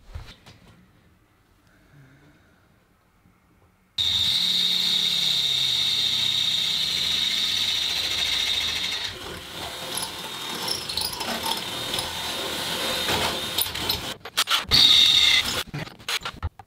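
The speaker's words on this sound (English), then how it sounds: "Let's get these holes drilled and ready to go, so the winch is ready to mount." Power drill boring holes in wood for a winch mount on an Anchormatic installation. After a few seconds of near silence it kicks in with a loud, steady high whine that runs on, broken by a few sharp bursts near the end.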